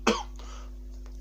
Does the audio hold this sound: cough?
yes